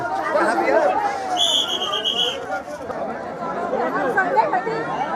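Pilgrims at the Gangasagar Mela crowd a packed boat, making a dense babble of many voices with a brief whistle partway through.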